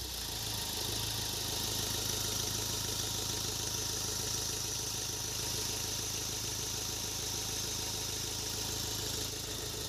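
A Mahindra Scorpio S10 diesel engine idles just after a full overhaul, a steady, low, faintly rattling hum that holds evenly for about ten seconds with no talk over it.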